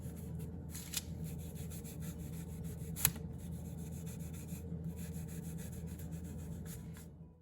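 Cloth rubbing excess American Walnut Rust-Oleum stain off a wooden toolbox, making a steady, soft, close scrubbing sound, with a sharper tap near the start and a distinct click around three seconds.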